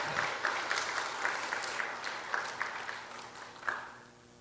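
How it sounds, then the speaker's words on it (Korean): Church congregation applauding a choir during a Sunday worship service, a steady wash of clapping throughout with a few louder bursts, moderately distant and fairly soft in a large room. "박수 한번 보내겠습니다"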